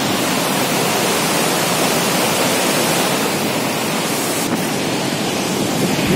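River water rushing past in Naran, Pakistan, a steady, loud broadband roar that stays constant from start to finish, close by and with no voices over it.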